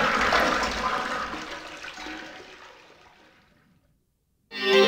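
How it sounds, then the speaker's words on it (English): A toilet flush in the Killer7 video game, a loud rushing gush that drains away over about four seconds into silence before a brief tonal game sound. "Flush that toilet. Toilet flushed."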